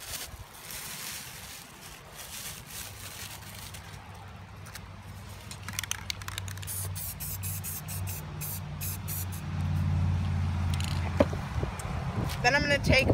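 A spray paint can hissing in bursts as white paint goes on, with a person talking over it and the spraying growing louder and more continuous toward the end.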